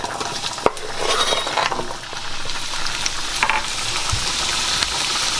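Onions, ginger and carrots sautéing in a pan for shrimp fried rice give off a steady close sizzle, broken by a sharp utensil clink early on and a few softer stirring knocks.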